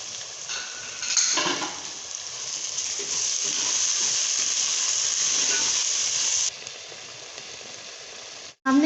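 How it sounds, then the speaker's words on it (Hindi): Potatoes fry with salt, green chillies, red chilli powder, dried coriander and turmeric in a pan for chicken biryani. A steady, close sizzling hiss fills the whole stretch, then drops off near the end with a brief clatter. "हमने शामिल कर लिए आलू और अब हम इसको अच्छी तरह भून लेंगे"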